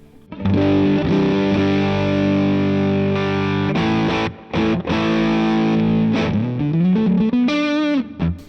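A distorted electric guitar rings out through an overdriven tube amp with a tone control turned fully, sustained chords followed by a few choppy bends and slides near the end.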